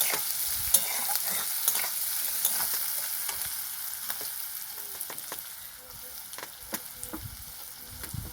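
Sliced onions sizzle steadily in a hot pan while a spatula stirs them, giving repeated clicking scrapes against the metal over a constant close frying hiss, with no voices.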